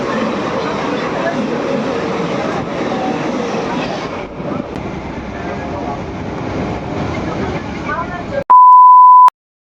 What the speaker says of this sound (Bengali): বোলপুরে 1 ঘন্টা লেটে ঢুকেছে ট্রেন।